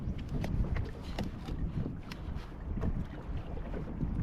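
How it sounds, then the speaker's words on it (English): Steady wind roars and buffets across the microphone on a kayak fishing at sea off Clacton pier, with faint water sounds beneath, continuous and fairly quiet. "Watch that wind, it's picking up a little bit."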